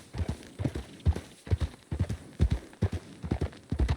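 Horse hooves clip-clop in Red Dead Redemption 2, a steady walking rhythm of paired, close thuds repeating evenly throughout, alone with no talk.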